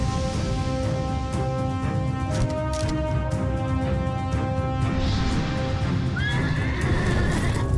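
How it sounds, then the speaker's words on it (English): Horse neighing and galloping in the fantasy hidden-object game Dark Parables, with steady clip-clop hoofbeats under a layered musical score and a rising whinny near the end, loud and continuous. "Okay, that's quite a fast horse."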